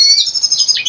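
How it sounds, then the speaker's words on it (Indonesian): A red siskin at a bird farm sings a bright, continuous run of high twittering notes, close and loud, with no pause. "Oh, ini gacornya nggak berhenti-berhenti ya?"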